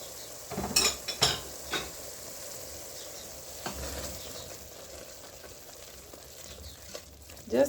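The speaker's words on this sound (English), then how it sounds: "Just keep stirring until the paste is well balanced with the spices" A spoon stirs spice paste in a cooking pot for mung beans, with a soft ongoing sizzle under a few sharp metallic scrapes and clinks early on, close by and with no talk.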